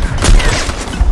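Gunshots in a video game ring out as a rapid burst of loud, sharp cracks that overlap into a dense volley, heard up close with no talking.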